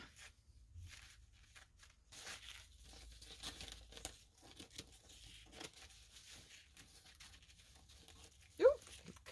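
Paper being cut and crinkled for decoupage Easter eggs, soft close-up snipping, rustling and tearing in scattered bursts, ending in one sharper crinkle.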